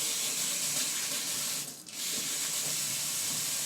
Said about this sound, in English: So I'll get the water.